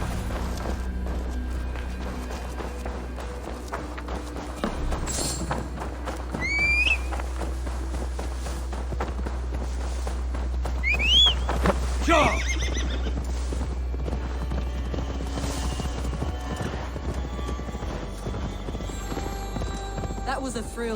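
Horses in the game Assassin's Creed Valhalla, with steady clip-clopping hooves and a couple of sharp neighs and whinnies rising over a low rumbling game soundscape, while a voice talks intermittently.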